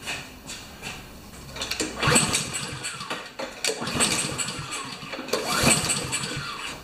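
Honda GCV190 engine on a Craftsman lawn mower, choked and being cranked after a no-start, sputtering through repeated pull attempts in uneven bursts, close and moderately loud with no talking.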